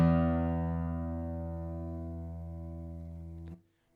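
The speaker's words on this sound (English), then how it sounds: "If I were to take my thumb and just pluck the 6th string" A single open low sixth string on a guitar, plucked once with the thumb, rings with a rich harmonic tone and slowly decays over a few seconds before being cut off; close and alone.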